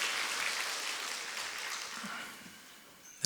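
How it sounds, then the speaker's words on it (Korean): A church evangelism-team congregation gives encouraging applause for a member, a dense, even roar of many hands clapping that fades slightly toward the end and is cut off by a sharp click. "김은미 집사님에게 격려의 박수 보내드리도록 하겠습니다"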